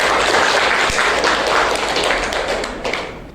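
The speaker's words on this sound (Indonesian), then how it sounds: "tepuk tangan untuk Mbak Rika." Loud, dense classroom applause from students fills the room for about three seconds, steady before fading slightly toward the end.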